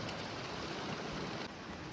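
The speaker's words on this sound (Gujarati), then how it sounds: "જો વરસાદ આવી રહ્યો છે" Heavy rain pours steadily and close, a dense continuous hiss with a slight drop in level near the end.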